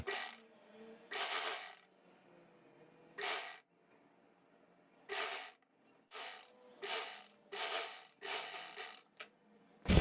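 Domestic sewing machine stitching the outline seams of an umbrella cut dress, running in a series of short bursts of rapid mechanical clatter with brief pauses between them, close and fairly quiet.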